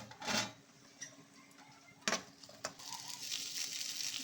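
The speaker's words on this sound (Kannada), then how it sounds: "ಇದ್ರ ಜೊತೆಗೆ ನಾನು ಶುಂಠಿ, ಬೆಳ್ಳುಳ್ಳಿ, ಹಸಿಮೆಣಸಿನ್ಕಾಯಿ ಕೂಡ ಹಾಕ್ಬಿಡ್ತೀನಿ. ಹಾಕ್ಬಿಟ್ಟು ಫ್ರೈ ಮಾಡ್ಕೊಂಡಿರ್ತೀನಿ" Onions frying in a pan with ginger, garlic and green chilli give a soft, steady sizzle, broken by a few sharp clinks and stirring taps, fairly quiet and close.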